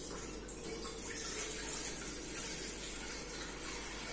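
Water pours for kneading flour dough in a home kitchen, a soft, steady continuous splashing stream, faint and unbroken throughout.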